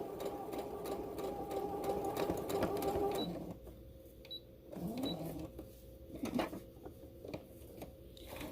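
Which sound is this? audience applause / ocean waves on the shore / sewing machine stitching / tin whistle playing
sewing machine stitching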